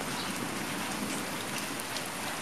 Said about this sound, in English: so they're out in the rain, eh? They don't care about the rain.